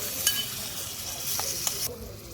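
Tomatoes go into onions frying in oil in a pan, giving a steady close hiss of sizzling with a few light clinks and scrapes, and no voice over it.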